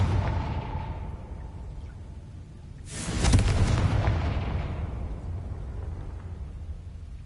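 A Confringo blasting spell goes off in a Harry Potter video game: a sudden loud explosive boom that rolls and slowly fades, following a quieter ambient stretch.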